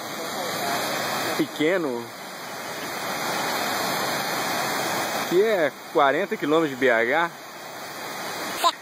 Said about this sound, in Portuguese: Achamos uma cachoeira, né? Tem uma cachoeira da prefeitura.